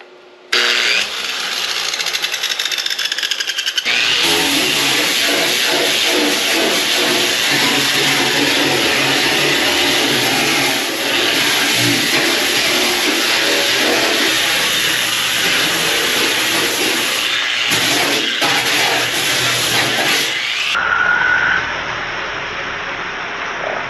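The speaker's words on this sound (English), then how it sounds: "let's put this thing on the grinder and see what it can do" An angle grinder runs on bed liner inside the cab of a Squarebody C10 pickup, giving a loud, steady, harsh whine that lasts nearly twenty seconds before cutting off.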